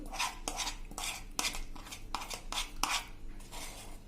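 A spoon scrapes and clinks against a pan as onion chutney is scooped into a bowl, giving a close, quiet run of repeated metallic scrapes about every half second with no voices.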